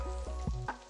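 Chopped garlic and turmeric sizzle steadily in hot oil for a red amaranth stir-fry, with a few sharper crackles and stirring bumps over the continuous hiss, close by.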